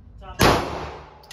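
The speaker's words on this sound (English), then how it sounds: "That's me shooting" A single loud gunshot cracks out at a shooting range, close and sharp, its report decaying over about a second with faint room noise around it.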